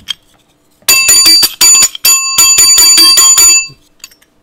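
A bright metal bell, like a bicycle bell, rung in rapid bursts of repeated trills with short pauses between them, loud and close with nothing else around it.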